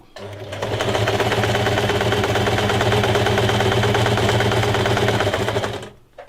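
A sewing machine runs steadily while stitching a fabric face mask, a close, even, fast mechanical whir with rhythmic needle clatter lasting several seconds before winding down.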